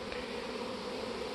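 A honeybee swarm buzzes steadily and densely, a close, continuous drone of many insects with no voices.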